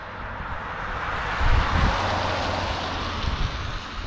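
Strong mountain wind in the High Tatras rushes steadily, buffeting the microphone with low rumbling gusts.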